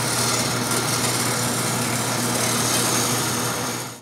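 A wood lathe runs steadily as glued wooden wheels are turned, a loud, continuous high-pitched motor whine with workpiece noise that holds for a few seconds and then starts to wind down at the end.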